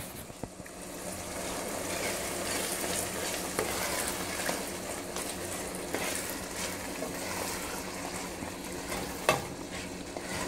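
Tomato bisque soup cooking down in a pot, giving a steady soft sizzle and bubbling with occasional light clicks and stirring sounds, even and moderate throughout.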